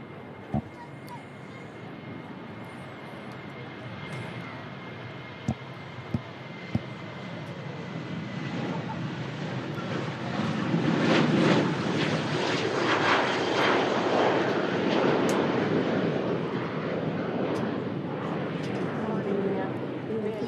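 A Jet2 Boeing 737 departing Manchester Airport, its engines building from a distant rumble into a broad roaring swell that peaks midway and stays strong, with someone talking over it.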